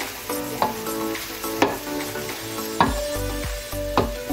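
Eggs and tuna sizzle steadily in a hot pan while a utensil stirs and scrapes through them, with several loud knocking strokes against the pan over the continuous frying hiss.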